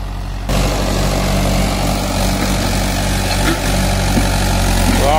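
A heavy Mahindra 475 DI tractor engine pulling a 12-disc harrow drones steadily with a low rumbling throb, loud and continuous, laboring under load without pause.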